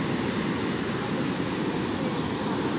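Rough sea surf rolls in as a broad, steady roar of breaking water, loud and continuous without distinct individual crashes, with no voices over it.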